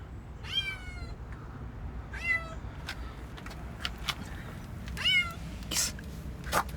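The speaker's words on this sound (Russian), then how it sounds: "У меня в двигателе кошка." A cat meows repeatedly from inside a car's engine compartment, several drawn-out rising and falling cries spaced a second or two apart, each clear and fairly close over a low steady background rumble.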